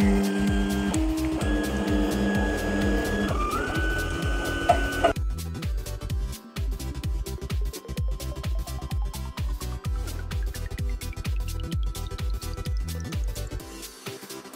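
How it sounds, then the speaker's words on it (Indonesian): An Anet A3 3D printer prints a Pikachu figure after reaching 200 degrees, its stepper motors giving a steady run of whirring, chirping tones and rhythmic ticks, with pitch shifting as the head moves, loud and close with no talking. "Setelah mencapai 200 derajat, ini akan otomatis ngeprint sendiri."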